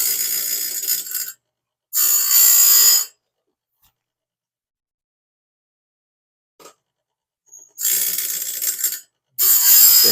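Sawmill blade sharpening machine grinding a blade in loud, bright bursts of a few seconds each, separated by long silent gaps, with faint clicks in between.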